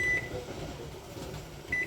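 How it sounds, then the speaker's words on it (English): Two short electronic beeps from a kitchen timer, one at the start and one at the end, sound over a low hum of jam canning on the stove. "timer just went off"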